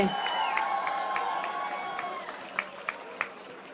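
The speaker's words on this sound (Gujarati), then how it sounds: "શ્રી જગ્ગી વાસુદેવ સદગુરુ ને આપણે ખૂબ ખૂબ તાળીઓ સાથે વધાવી લઈએ." A large outdoor crowd of dairy farmers claps and cheers to welcome a guest speaker, with a dense, sustained ovation, a few louder claps standing out near the end and voices mixed in.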